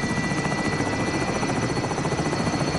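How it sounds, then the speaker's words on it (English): Helicopter in the Warzone video game, a loud continuous rotor chop and engine drone close by, steady throughout with no talk. "Alright, helicopter's here."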